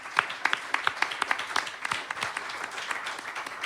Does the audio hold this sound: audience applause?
yes